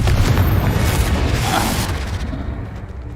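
The Confringo explosive spell bursting in the Hogwarts Legacy video game, a loud, heavy blast with a rumbling roar that gradually fades over a few seconds.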